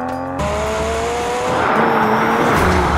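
McLaren 720S accelerating hard, its engine note climbing steeply through the revs in a loud sustained roar heard from close by, with a brief gear-change dip near the start and a continuing rising pull afterward.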